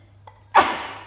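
A single sharp sneeze bursts out close and loud after a faint intake of breath, in a quiet home workout setting.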